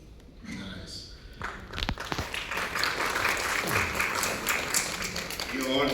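An audience at a live talk event clapping, the scattered applause swelling into steady clapping over several seconds, heard at moderate distance with some voices and murmurs mixed in.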